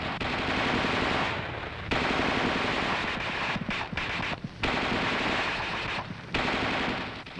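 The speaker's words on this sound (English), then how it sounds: "The gunner continues to fire in 20 to 25 round bursts" The M551 Sheridan armored reconnaissance vehicle's coaxial machine gun fires long bursts of 20 to 25 rounds, a dense, loud rattle with a few short pauses between bursts, heard close up with no speech.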